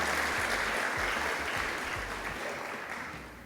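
Sustained applause from a large conference audience at the Merck Foundation Africa Asia Luminary honouring African First Ladies, a dense wash of clapping that fades slightly toward the end.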